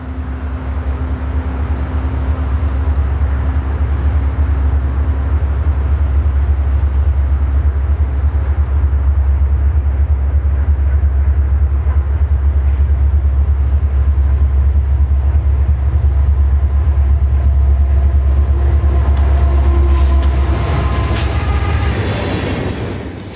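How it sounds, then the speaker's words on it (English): An empty coal hopper train rolls steadily past at close range, a continuous loud rumble and clatter of wheels on rail that holds for the whole stretch, with some squeal and clanking rising near the end. "an empty coal train is viewed as it passes through Haysville"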